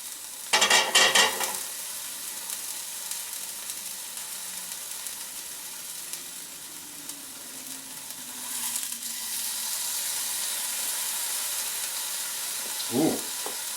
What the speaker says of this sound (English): Okay, we're frying along here.